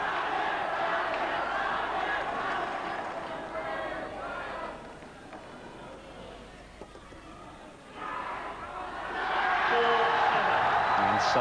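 Crowd noise at the 1996 Yonex All England men's singles badminton final, a steady murmuring roar that swells into louder cheering near the end, with commentary talking over it.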